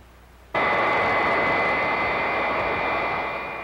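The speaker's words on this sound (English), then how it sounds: "These sounds of our jet age are familiar ones." A jet aircraft engine switches on abruptly with a loud, steady roar and high whine that holds for about three seconds, then eases slightly, typical of big jets near airports.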